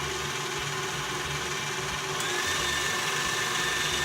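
Electric mixer with a whisk attachment spinning in the air above a bowl to fling off cream cheese frosting, a steady whirring motor hum that grows slightly louder partway through, close and without speech.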